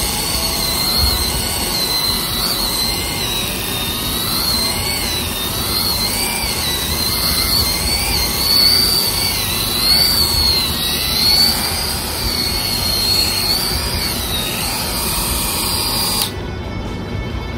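An electric epilator runs steadily with a high, whining motor buzz that rises and wavers as its speed increases, loud and close, then cuts off near the end.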